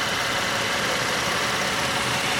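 A 2014 Chevy Impala police package with a 3.6-liter engine and 109,000 miles idles steadily, a smooth, even hum with no revving, close and moderately loud.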